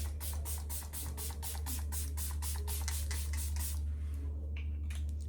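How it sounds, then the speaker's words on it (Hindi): Dalba spray serum is misted onto the face in about a dozen quick, evenly spaced pumps over nearly four seconds, close up above a steady low hum, followed by a few faint scattered sounds and no talking. "अब मैंने ये स्प्रे सीरम लिया, डालबा का है ये"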